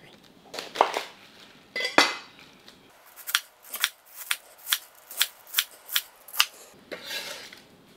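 A knife chops through fresh, crisp cabbage on a board, a series of sharp, evenly spaced cuts, close and clear with no talking.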